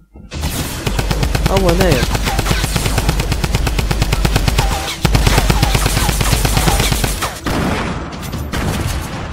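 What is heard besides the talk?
gunfire in the video game Fortnite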